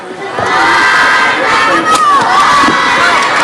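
A large crowd at a badminton World Championship match roars and applauds steadily, a dense wash of cheering and clapping that swells and holds for several seconds.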